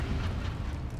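Incendio, a fire spell in Hogwarts Legacy, makes a brief whooshing, roaring burst of flame that holds steady and fairly loud for about a second.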